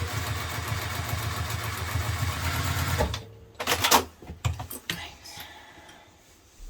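A sewing machine stitches a hipster bag in a steady close whir for about three seconds, then stops, followed by sparse clicks and handling taps as the fabric is adjusted.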